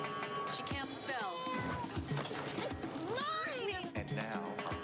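A cat meows in a Hellmann's mayonnaise commercial, its rising and falling meows mixed with voices and background music at steady loudness.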